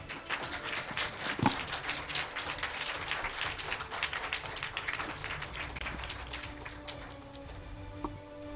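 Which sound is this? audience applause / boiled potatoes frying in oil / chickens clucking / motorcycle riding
audience applause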